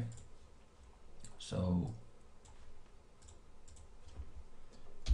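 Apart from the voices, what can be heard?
typing on a computer keyboard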